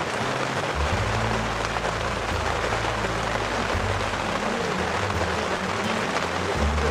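Rain falls steadily outside at night in a forest on a Singalila hike, a continuous close hiss of drops with no voices.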